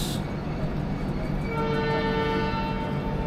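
An Indian Railways train with a WDP 4D diesel locomotive passes at a crossing, a dense steady rumble of wheels and rolling stock with sustained horn-like tones, heard from on board a nearby train.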